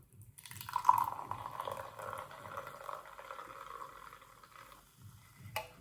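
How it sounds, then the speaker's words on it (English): Taiwanese root beer poured from a can into a Chinese iced tea glass, a soft fizzy gurgling stream for about four seconds that fades into a light crackle of bubbles, with a small clink at the end. "So got my handy dandy Chinese iced tea glass. Let's do a pour test, okay?"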